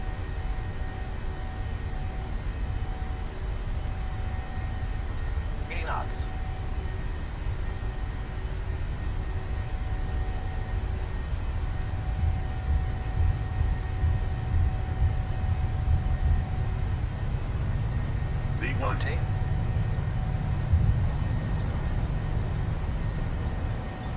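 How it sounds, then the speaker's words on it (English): Airliner jet engines held at takeoff thrust in Microsoft Flight Simulator, a steady loud low roar with a constant whine that lasts throughout, and two brief rising chirps over it. "Takeoff thrust set. Let's bring up my throttles just to match it"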